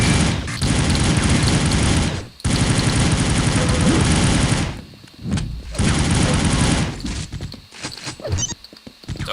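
Rapid continuous gunfire from a Gatling gun in the arena shooter Quake 3, long loud sustained bursts broken by brief pauses, with game effects in between.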